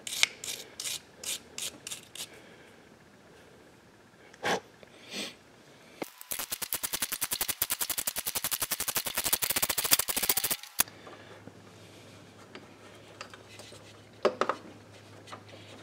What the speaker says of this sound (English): I'm just going to wire brush it a little bit, get it cleaned off